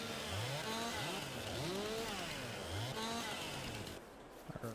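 Chainsaw felling trees in the video game Farming Simulator 22, a steady loud engine drone with rising and falling revving pitch, cutting out near the end with a few brief knocks.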